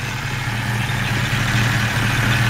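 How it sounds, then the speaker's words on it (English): A 1966 Ford Mustang convertible's V8 idles steadily with a low, even rumble, its power steering pump whining along underneath, close and continuous. "You can hear that power steering pump going"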